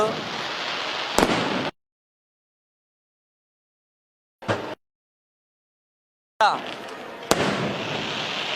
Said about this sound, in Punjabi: ਗੁਰੂ ਘਰ ਦੇ ਵਿੱਚ ਜਦੋਂ ਆਤਿਸ਼ਬਾਜ਼ੀ ਹੁੰਦੀ